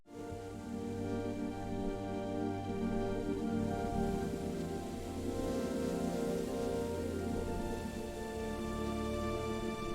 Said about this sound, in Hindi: ये बारिश भी धीरे धीरे कम होने लगती है